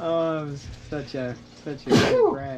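A single sharp sneeze bursts out in a workshop, sounding close and loud, with someone talking just before and after it.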